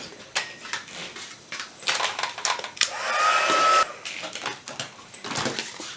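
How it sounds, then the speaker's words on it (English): A craft heat tool blows hot air to set wet embossing glue on a scored diamond pattern project, giving a hair-dryer-like rush with scattered clicks and taps nearby. "You're going to go ahead and heat set this so that it's not wet at all"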